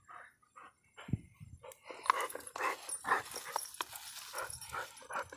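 A dog on a walk whines and whimpers in a string of soft, uneven yelps and snorts while watching another dog across the way, close by over faint outdoor background noise.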